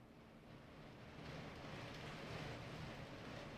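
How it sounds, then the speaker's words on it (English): Rain falls outside as a soft, continuous hiss, faint and distant, rising slightly after the first second and holding steady with no voices. "Can you really hear the rain?"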